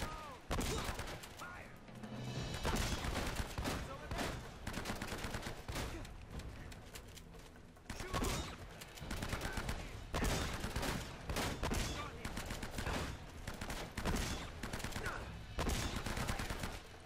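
Enemy gunfire in Uncharted: Drake's Fortune pours in as dense, continuous rapid bursts of shots for the whole stretch, loud and relentless, with a brief pause near the middle before the barrage resumes.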